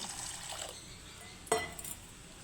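Flattened rice (chira) is scrubbed and rinsed by hand in a bowl of water, giving a soft, steady wet swishing with a brief louder splash and a clink of the container midway.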